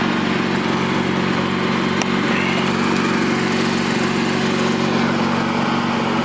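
A repaired, once-cheap riding lawn mower engine runs continuously at a steady idle, a loud, close drone with a constant low hum and no variation in pace.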